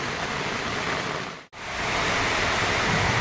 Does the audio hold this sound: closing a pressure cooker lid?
no